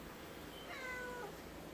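A single drawn-out cat meow sounds once, faint and somewhat distant, over quiet room tone.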